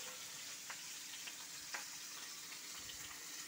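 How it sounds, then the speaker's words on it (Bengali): Fish frying in oil gives a faint, steady sizzling hiss with scattered small pops and crackles. "মাছগুলি আমার এই কটা মাছ ভাজা হয়ে গেল"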